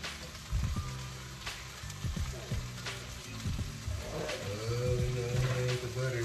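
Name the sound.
butter sizzling in hot pan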